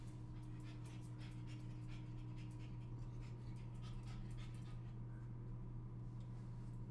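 A dog at a dog cafe pants steadily, rapid rhythmic breaths close and moderately loud over a constant low room hum, with no speech.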